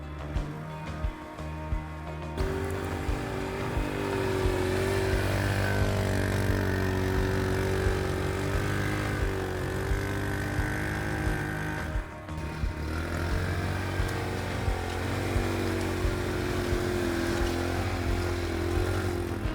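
A small homemade tracked ATV, the Patrol Mini, runs steadily for the whole stretch, its engine droning at a near, constant level with a brief dip partway through and no voices over it.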